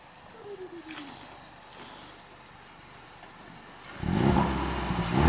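A Mk3 Ford Focus RS with a GFB DV+ diverter valve: quiet at first, then a loud engine rev builds near the end and grows toward the close, with no talk over it.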